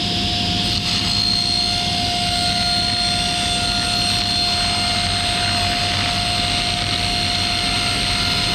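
A construction rip saw cuts wood with a steady, loud, high-pitched whine and a sustained blade tone, with no break through the whole stretch.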